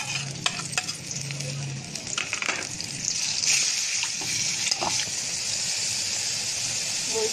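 Ground shrimp and spice paste dropped into hot oil for a Malabar spinach curry, sizzling and bubbling steadily up close, with scattered clinks and stirring sounds and a brief hum early on.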